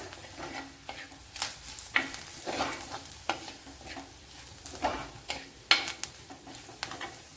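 Colocasia curry with turmeric powder is sautéed in a pan, with a soft, continuous sizzle under repeated scraping and clinking strokes of a spoon against the metal, close and irregular in rhythm.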